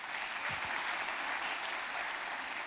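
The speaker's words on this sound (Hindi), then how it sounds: "एक जोरदार ताली नाहिद के लिए" An audience at a Forever Living India success day event in Mumbai applauds for a sourcing manager, producing a steady, even wash of clapping throughout with no break.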